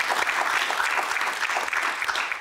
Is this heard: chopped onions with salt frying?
no